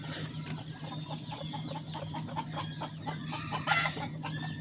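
A desi hen that hatched chicks from nine eggs clucks repeatedly in short, soft bursts over a low steady hum, with a few sharper calls near the end.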